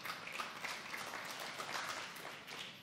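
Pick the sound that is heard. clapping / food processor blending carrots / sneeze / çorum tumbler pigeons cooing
clapping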